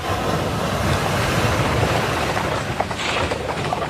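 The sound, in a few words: sea waves surging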